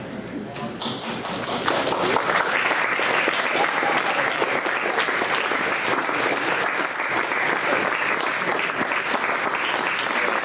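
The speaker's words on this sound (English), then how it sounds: "Could I get our speakers to come up to the front for a final round of applause" Meetup attendees applaud the speakers with sustained, dense clapping that swells after a quiet opening second and stays loud to the end, with voices mixed in.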